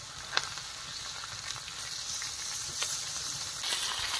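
Fish fries in a pan outdoors in a forest, a steady hissing sizzle broken by a few crisp spatters and a sharper crackle near the start.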